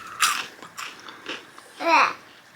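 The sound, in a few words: biting and chewing crunchy salty French snacks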